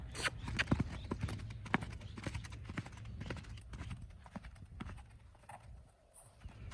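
A horse's hooves canter in a round pen, rhythmic thudding beats on soft ground at moderate distance, irregular toward the end as the gait breaks down.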